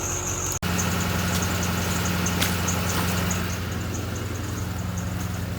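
Pontiac car engine already running after its start, a steady close idle with a low rumbling drone and a faint ticking, holding level for several seconds with no voices.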